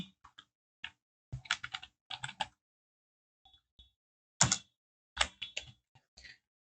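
Typing the words business card on a computer keyboard: short bursts of crisp key clicks separated by pauses, close and clear in an otherwise quiet room.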